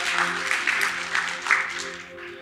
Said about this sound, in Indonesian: Berikan tepuk tangan yang paling meriah buat Tuhan kita, Saudara.